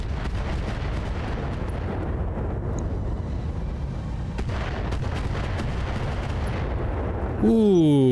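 Heavy turret fire during a mech battle in BattleTech RogueTech, a dense rumbling barrage of booming impacts and bursts that runs throughout, with a rising synthetic tone near the end.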